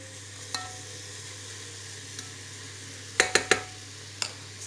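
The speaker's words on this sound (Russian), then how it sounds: "Сейчас все перемешаем. Сюда же добавляю эту порезанную одну помидорку нашу." Carrots and tomato fry in a multicooker under a steady quiet sizzle, with a few sharp utensil clicks and scrapes against the pot as the mix is stirred, a cluster of three near the end.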